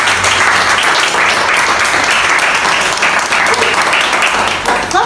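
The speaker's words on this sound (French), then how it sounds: "Est-ce qu'on peut acclamer pour ça?" Loud, dense applause from an audience at a Longrich product presentation, continuous clapping filling the room for several seconds before tapering slightly at the end.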